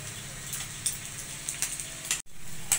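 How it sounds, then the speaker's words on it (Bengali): Puti fish fry in a pan in a home kitchen, a steady close crackling sizzle with scattered sharp spits and pops that drops out briefly near the end. "এই যে পুঁটি মাছ ভাজা হচ্ছে"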